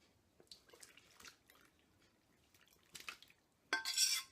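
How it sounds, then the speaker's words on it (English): Hot cooked dates tipped from a pot into a cloth-lined strainer set over a bowl: scattered soft clinks and wet drips, then a loud, close, splashy clatter as the bulk pours in near the end. "I am just going to dump the dates in"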